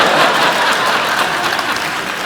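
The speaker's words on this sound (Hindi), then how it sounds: "आप लोग ताली बजाते रहिए" Studio audience applauding on The Kapil Sharma Show, a dense, steady wash of clapping from a large crowd with scattered chuckles, loud and continuous throughout.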